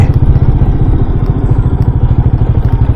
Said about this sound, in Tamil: இன்னும் வந்துட்டே இருக்கு வண்டி.